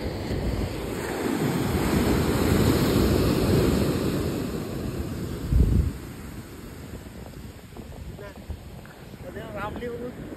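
Sea waves roll onto a sunny sandy beach in Konkan at Kunkeshwar, a continuous surf wash mixed with gusty wind noise on the microphone. Surges swell and recede, and voices chatter faintly in the background.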